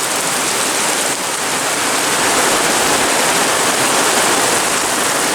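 Heavy rain pours down steadily and loudly, a dense unbroken hiss that holds even from start to finish with no voices over it.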